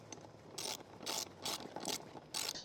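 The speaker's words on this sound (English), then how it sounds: "Then grab a 10mm wrench or socket and tighten it up." Socket wrench ratcheting as a 10mm bolt is tightened on an Ariel Rider X-Class e-bike, five quick close bursts of clicking separated by short pauses, no voices.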